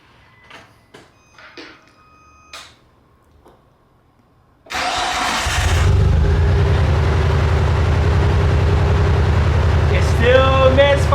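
A Nissan Skyline R34 cranks and fires into a loud, uneven idle with a persistent misfire, following a few quiet clicks and knocks; the rough engine drones on steadily at close range.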